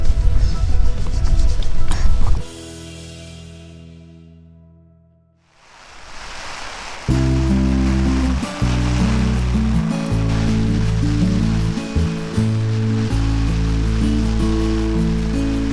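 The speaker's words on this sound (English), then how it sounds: "it hasn't stopped raining since 6 o'clock and it's now 10" Steady rain falls on a backpacking camp as a broad, continuous wash of noise, loud and close. Partway through, the sound briefly thins and then returns just as dense.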